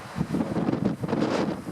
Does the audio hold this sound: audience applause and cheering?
no